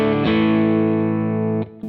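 Redplate HD50R Dumble-style guitar amp on its single coil voicing rings out one sustained, slightly driven guitar chord that holds steadily, then is cut off near the end, alone with no talking.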